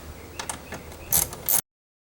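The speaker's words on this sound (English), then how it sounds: "we're going to want to remove these two 6mm bolts that are on the bottom of the panel here" Ratchet wrench turning 6mm bolts out of a 2001-2005 Ford Explorer door panel, with a few rapid clicking bursts, close, ending abruptly in silence.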